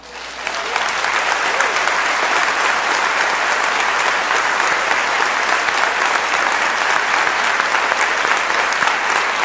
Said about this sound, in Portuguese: Isso não merece um aplauso bem forte?